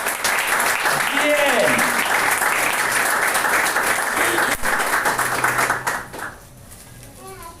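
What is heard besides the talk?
congregation applauding in church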